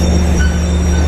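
The Serayu night train pulls into Bandung station with a loud, close rumble of rail cars and a faint wheel squeal, heard in one brief stretch.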